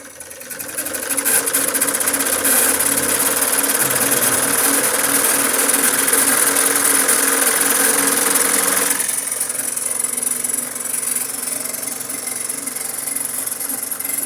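A Wilesco D32 live steam engine opened up and running, giving a loud, steady mechanical whir with fast rhythmic clatter throughout, close to the microphone and with no talk.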